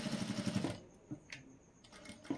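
Sewing machine stitching along the piping of a blouse back neck, a loud continuous motor whir for under a second, then quiet with a few faint taps and a brief high tone.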